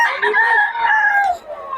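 A rooster crows loudly and close, one long drawn-out call among chickens kept for sale at a busy market in Bocaue, with other fowl clucking faintly.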